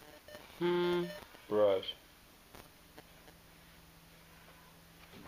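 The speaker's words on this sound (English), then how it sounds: "I hear my cell phone going off there." A cell phone rings twice in short tonal bursts during glue work on a resonator guitar kit's kerfing, followed by a faint steady hum.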